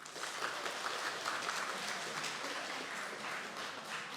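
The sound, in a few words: congregation applause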